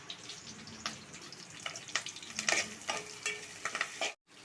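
Onion, garlic and curry leaves frying in hot oil in a pan, a steady crackling sizzle with repeated scraping stirs, close up with no talk, ending in a brief silence.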